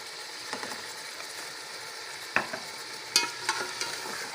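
A ground yogurt and onion mixture going into chicken korma frying in a pot, a steady quiet sizzle broken by a few sharp scrapes and clinks of a spoon against the pan, close and without talk.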